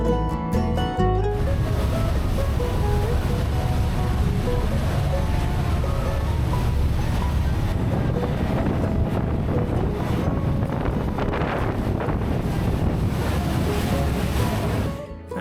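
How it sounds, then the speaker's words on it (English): Waves surge and crash steadily against a moving boat, with heavy rushing water and wind buffeting close to the microphone throughout. "watching the back of the ship crash through the waves"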